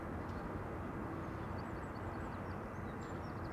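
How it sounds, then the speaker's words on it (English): A DHL Airbus A300 taxis across a runway at Amsterdam Schiphol Airport, giving a steady, distant engine rumble that holds level throughout, with faint bird chirps above it. "The side of the A300 moving, crossing over runway"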